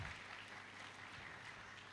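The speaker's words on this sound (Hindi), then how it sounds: "करेक्ट आंसर है, तालियां बजाओ," An audience at a spiritual talk claps together after a correct answer, a faint, steady wash of many hands heard from a distance, even and continuous without a break.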